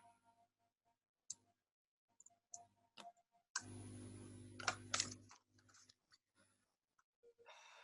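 A computer keyboard is used to type a product search into a shopping site. Sparse, quiet key clicks come one at a time, with a short burst of louder noise in the middle, and no talking.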